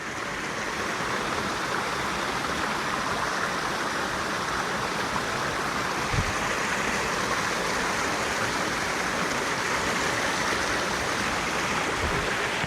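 A forest river on the Uda Malibode trail to Sri Pada rushes steadily nearby, a continuous broad wash of flowing water with no pauses and no voices.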